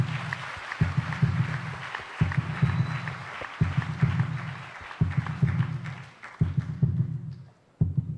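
A heartbeat sound effect plays on a TV talent show, a steady run of deep paired thumps repeating every second or so, with crowd applause washing underneath and the beat dropping away near the end.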